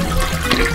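A toy toilet from an Easter surprise egg gives a short, loud, close burst of gushing, flushing water noise lasting under a second, with no voices over it.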